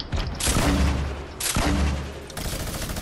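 Gunfire and grenade launcher blasts in a Fortnite Battle Royale match, loud and close: two booming bursts with rapid shots, then a third volley starting near the end.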